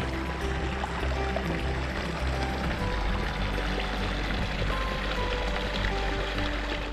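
Meltwater stream flowing across the Greenland ice cap, a soft continuous rush and gurgle of water, fairly quiet and steady throughout with no voices.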